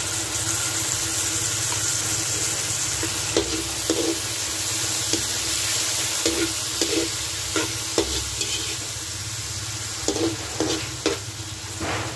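Sardines frying in a pan while being stirred: a steady, close sizzle runs throughout, broken by regular scraping knocks of the utensil against the pan, with no talking.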